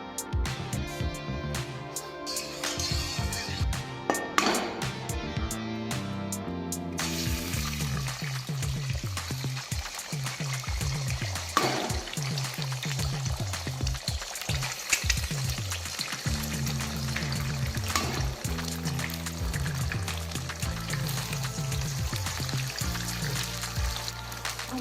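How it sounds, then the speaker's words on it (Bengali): An egg frying in a little refined oil in a pan for a Bengali egg and vegetable semolina pilaf, a steady sizzle running throughout with occasional utensil clinks over it. "এবার তাহলে আমি ডিমটাকে ভেজে নেব। ডিম ভাজার জন্য আমি একটু রিফাইন্ড অয়েল দেবো।"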